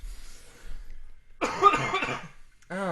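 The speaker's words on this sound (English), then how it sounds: "Excuse me, cough." A single short cough comes up close, then a person starts speaking right after.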